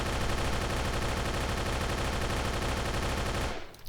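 Rapid, continuous submachine gun fire in the shooter game Darkest Days, a dense unbroken stream of shots at steady loudness that cuts off abruptly near the end, with no talking.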